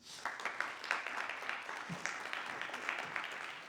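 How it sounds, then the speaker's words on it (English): An audience gives a round of applause for a guest speaker at a fireside chat event, a steady, moderately distant rush of clapping with a few distinct individual claps throughout. "could we please have a large round of applause for our guest today, Anne-Aélis."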